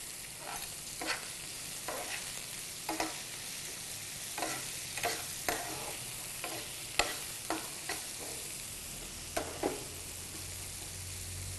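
Carrots, beans and onions sautéing in a pan with salt, a faint low sizzle punctuated by a dozen or so light, evenly spaced spatula scrapes, quiet and close, with no one speaking.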